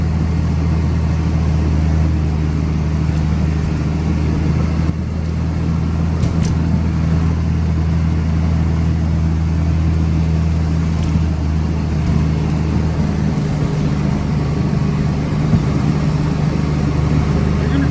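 A six-speed service truck with a Cat 3116 diesel engine runs steadily, giving a constant low, even engine hum with a few faint clicks over it.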